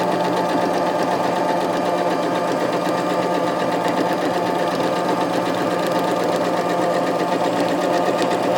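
A sewing machine runs continuously and close up, a steady mechanical whir with a rapid stitching rhythm as it sews fabric for a rag quilt bag.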